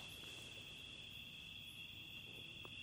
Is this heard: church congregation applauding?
no